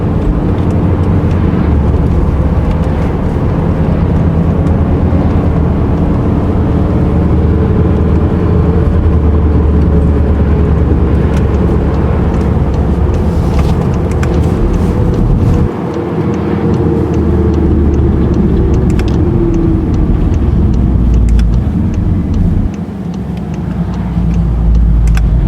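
A Volkswagen Golf R drives along in eco mode, its engine and road noise forming a steady, loud, continuous drone heard from inside the car, with no talk over it.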